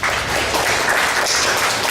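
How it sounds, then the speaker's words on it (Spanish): Applause from a conference audience welcoming a speaker to a human rights lecture, a dense, steady wash of clapping that holds evenly throughout the clip with no voices over it. "Les pido un fuerte aplauso para recibirlo."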